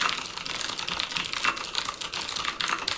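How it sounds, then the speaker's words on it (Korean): Rapid typing on a blue-switch mechanical keyboard, a close, crisp stream of sharp clicky keystrokes at an uneven fast rhythm, heard alone without talk. "이거를 청축 키보드와 비교를 해서 들어보면요"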